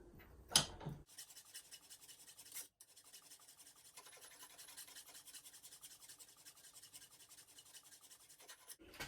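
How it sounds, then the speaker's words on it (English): A hand file rasping a keyway into metal, a short squeak and scrape at the start, then steady quick back-and-forth filing strokes continuing close up with no talk. "we'll just continue filing that"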